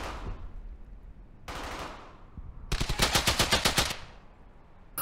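Bursts of gunfire in the Hell's Highway video game: a short burst, then a longer rapid machine-gun volley of sharp repeated shots, loud and close, with no talk.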